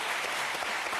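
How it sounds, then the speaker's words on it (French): A television studio audience on the French show Vivement Dimanche breaks into a brief, dense burst of steady applause. "Est-ce qu'on peut les applaudir quand même?"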